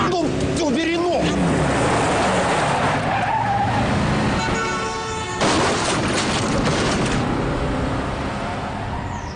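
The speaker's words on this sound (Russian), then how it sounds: "Газуй, Леша, газуй." A car revs hard and its tires squeal as it launches in a race, engine roaring loud and close. Someone shouts over it.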